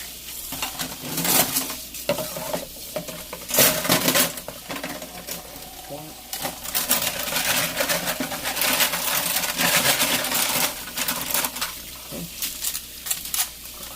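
Dishes washed by hand with Dawn Platinum EZ-Squeeze lemon dish soap are rinsed under running water, with near, steady splashing and intermittent clatter of dishware in a sink.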